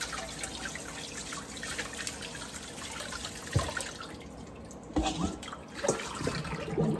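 Running cold tap water splashes and trickles as pork belly is rinsed, with occasional louder splashes and handling bumps, close by and without voices.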